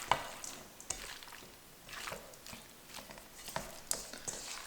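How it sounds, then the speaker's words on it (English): Crab cake mixture of crab meat, herbs, seasoning, spices and chopped veggies gets gently folded in a bowl, giving soft wet squelching strokes with a few faint clicks, quiet and close with no talking. "you just want to fold it enough so that your crab is mixed in with all your other herbs, seasoning, spices, and veggies"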